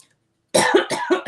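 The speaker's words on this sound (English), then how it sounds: "That's interesting that I'm coughing right now." A person coughs a handful of times in a quick, close, loud burst that breaks a short silence, with no talk alongside.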